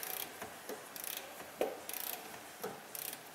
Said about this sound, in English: every click of the ratchet.